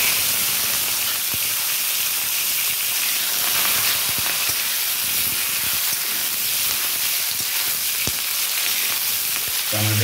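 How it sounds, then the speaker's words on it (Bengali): Tomatoes tipped into hot oil with popped mustard seeds for a dal, giving a loud, steady frying sizzle and hiss for the full stretch, with occasional faint pops and stirring clicks and no talking. "আমি এখন টমেটোগুলো দিয়ে দেব।"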